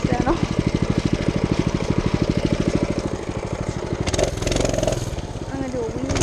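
A mini bike's small engine revs loudly and close by, with a fast, even putter that rises and falls through a throttle burst while riding through a field.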